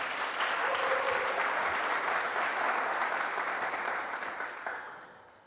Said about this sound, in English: big round of applause for Dennis.